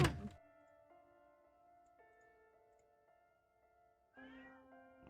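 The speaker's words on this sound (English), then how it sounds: "Sorry, my cat." A pet cat meows close by, a short loud cry at the start and another drawn-out meow near the end, with a soft tonal background in between.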